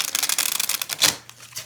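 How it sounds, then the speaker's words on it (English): A glossy, slippery, oversized tarot deck is riffle shuffled, producing a rapid fluttering burst of card flicks that settles into a soft bridge and tap, close and alone. "I am gonna see if I can riffle shuffle this, because it is a little bit glossy and slippery"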